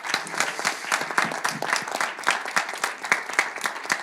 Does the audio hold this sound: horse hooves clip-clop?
no